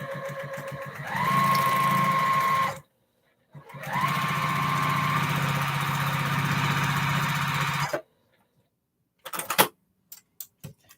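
An electric sewing machine runs in close, loud bursts, whirring steadily for a couple of seconds, stopping, then running longer before falling silent, followed by a few sharp clicks and taps.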